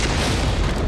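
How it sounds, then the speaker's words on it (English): A ship blows up in a naval battle in Napoleon: Total War, giving a loud, continuous booming roar that fills the whole moment with dense low rumble and no voices. "It's going to be another spectacular explosion."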